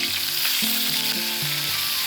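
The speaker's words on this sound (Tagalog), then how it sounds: "isa-isa nang ilagay ang ating mga isda at prituin ito hanggang sa medyo mag-brown na" Fish sizzles in hot coconut oil in a pan, a loud, continuous, close frying hiss that runs unbroken from start to finish.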